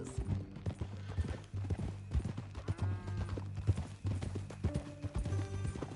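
Horse hooves clip-clop in a steady, brisk rhythm in the video game Red Dead Redemption 2, fairly close, with a low hum underneath and no talking.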